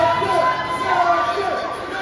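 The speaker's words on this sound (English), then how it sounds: "As the crowd's kicking it up for Nelson" Wrestling crowd at an NLW event cheering for Nelson as he heads to the ring, a dense, steady roar of voices and shouts filling the arena at a constant loud level.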